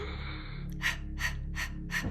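Short, forceful rhythmic breaths in the breath-of-fire style, four quick panting puffs about every third of a second, close to the microphone over a low steady hum.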